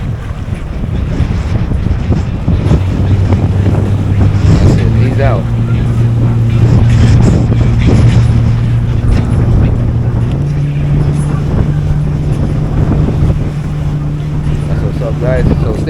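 A jet ski engine running on the water, its hum stepping up in pitch as it revs, heard under heavy wind buffeting and splashing waves.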